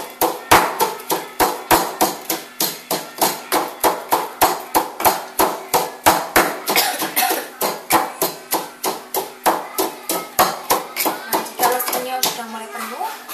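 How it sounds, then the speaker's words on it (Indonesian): Chilies for sambal Padang pounded with a mortar and pestle, a loud, close, steady thudding beat of roughly two strikes per second that continues throughout, with a voice talking over it. "Terus lakukan ini sehingga seluruh cabai yang akan ditumbuk habis."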